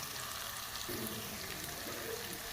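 Onions fry in hot oil in a pan with salt added, a constant soft sizzle throughout, even and fairly faint with no talking.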